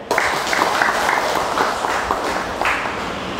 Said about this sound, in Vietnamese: Vỗ tay một cái đi.